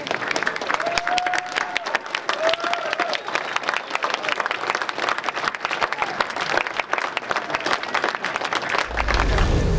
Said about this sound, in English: Please stand and give them a round of applause.